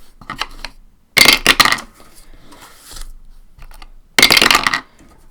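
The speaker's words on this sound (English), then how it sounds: "roll a 6-sided dice, wherever it lands, whatever number it lands on" A six-sided die rolled during a cash-stuffing savings challenge, giving two loud, sharp clattering bursts separated by quieter rustling and handling noise, close up.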